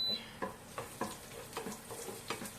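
Garlic frying in two tablespoons of oil for chicken liver adobo, a close, steady sizzle with rhythmic scrapes and stirs of a spatula in the pan.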